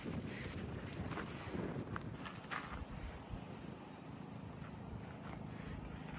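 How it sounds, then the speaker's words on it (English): Strong morning wind at a desert campground near the Superstition Mountains in Arizona, a steady faint rushing roar with low buffeting on the microphone and occasional brief gusts. "It's a very windy morning."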